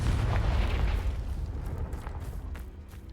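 A Confringo fire spell in Hogwarts Legacy blasts with a deep booming explosion, loudest at the start, then rumbles and crackles away over a few seconds with no talking.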